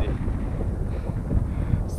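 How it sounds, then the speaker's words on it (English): Steady low rumbling wind on Mt Bogong, Victoria, buffets the microphone throughout, a constant blustery roar with no clear pauses. "It's windy"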